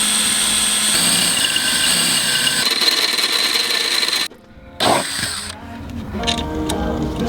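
A drill boring a hole with a 15/64 inch bit for a tight-fitting bolt with a locking nut, a steady loud whine running for about four seconds, cutting out briefly, then resuming.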